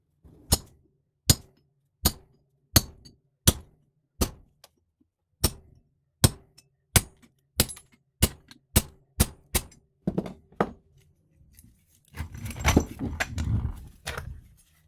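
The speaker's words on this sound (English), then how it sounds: "We're going to crack this case and open it up. All you'll need is a cold chisel," A cold chisel is struck with a hammer to crack the cast case of an air compressor, giving a series of sharp metallic blows at a fairly steady pace that grow quicker, followed by a rougher clattering of breaking metal.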